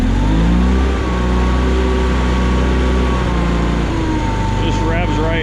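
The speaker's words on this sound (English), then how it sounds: "Just revs right up." A Bolens garden tractor with an Onan engine revs up loud and close, running steadily throughout with a brief pitch change near the end; people talk over the engine noise.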